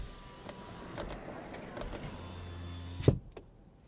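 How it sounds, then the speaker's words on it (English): Power window motors in a 2025 Honda Civic Hybrid whir steadily for about three seconds inside a fairly quiet cabin, then stop with a sharp thunk as the glass seats, leaving near silence. "Window motors are kind of loud"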